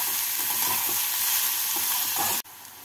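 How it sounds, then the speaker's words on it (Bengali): Chopped onions with a pinch of salt sizzle steadily in a pan as they are stirred and fried until lightly browned for a pea and potato curry. The frying is loud and continuous, then cuts off abruptly near the end. "এই পেঁয়াজগুলোকে এবার হালকা লাল করে ভেজে নেব।"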